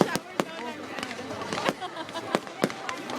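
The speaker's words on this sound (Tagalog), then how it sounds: "Shower of fireworks." Bonfire night fireworks going off in a shower of sharp bangs and crackles, roughly ten irregular bursts over a few seconds, with people talking in the background.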